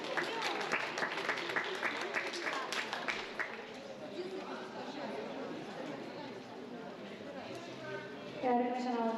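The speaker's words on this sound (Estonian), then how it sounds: "Aplaus võitjatele." Applause for the winners of a youth sprint competition, with a burst of scattered clapping at the start that fades into crowd chatter, and a voice speaking near the end.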